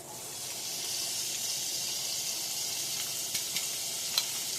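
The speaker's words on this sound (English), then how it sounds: "Start to saute the vegetables off and get all them drippings from the bottom of the pan." Mixed vegetables sizzle and sauté in pot roast drippings in a pan, a steady, moderately soft frying hiss with a few small pops and stirring clicks near the end.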